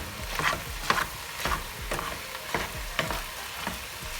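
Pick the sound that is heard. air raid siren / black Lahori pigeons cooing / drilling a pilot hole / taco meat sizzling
taco meat sizzling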